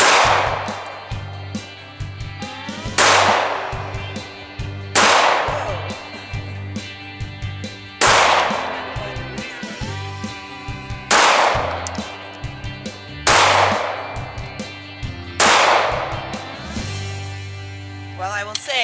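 Pistol shots from a Glock 43 and a Walther CCP firing 115 grain ball ammunition outdoors, about eight loud sharp cracks spaced two to three seconds apart, each followed by a decaying echo.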